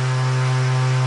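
A DC pulse motor runs at close to 8,000 RPM, giving a steady, loud tonal hum around its rotation rate with stacked buzzing harmonics, unbroken for the whole moment.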